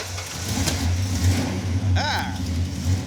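Ranchero engine fired up from outside the car, a low rumbling idle with a rising revving sweep, under people talking nearby.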